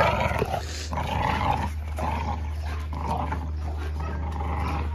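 American bully dogs growl and snarl in a yard, a close, continuous rough rumbling with bursts of louder growls, no talking.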